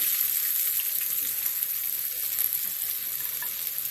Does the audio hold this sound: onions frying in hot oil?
yes